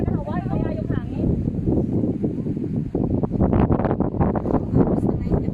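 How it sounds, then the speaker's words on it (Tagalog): Strong wind on Sharp Peak in Sai Kung buffets the microphone in a constant low roar, with a voice talking over it and rough gusty bursts growing toward the end. "So, ang lakas ng hangin."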